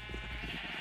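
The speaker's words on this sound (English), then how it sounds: "There's some sheep." Minecraft sheep bleating, a short wavering baa heard close over a steady background hum.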